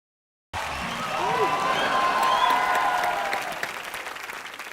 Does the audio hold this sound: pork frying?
no